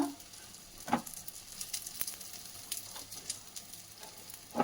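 Padu batter frying in oil in a pan as the pieces are flipped to the other side, a soft, steady sizzle with a few sharper clinks and taps from turning, heard close and alone.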